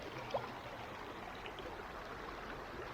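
Steady, faint flowing water of the Guyandotte River at Pecks Mill running over rocks, a soft continuous broadband wash heard alone from close by, with a brief small splash or blip near the start.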